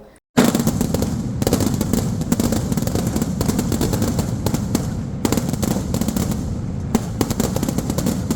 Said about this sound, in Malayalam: വടക്കുഭാഗം വെടിക്കെട്ട് കമ്മിറ്റിയുടെ വെടിക്കെട്ട് നടന്നു